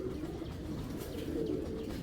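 Young racing pigeon cooing at close range, a soft low continuous murmur of coos running steadily through the whole short stretch with no talk.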